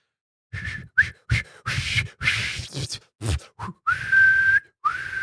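Someone whistles frantically outside a house, a rapid string of short, sharp whistles followed by a longer held tone and another quick chirp, loud and close.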